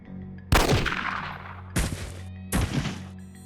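Three sharp Beretta 92F pistol shots in the Jagged Alliance 2 game, each a loud crack with a long ringing decay, fired at uneven intervals about a second apart.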